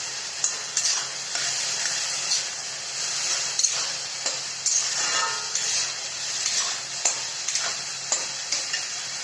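Two spoonfuls of ginger-garlic paste fry in a pan for a black-eyed pea dish, a steady bright sizzle punctuated by light spoon clicks and stirring scrapes.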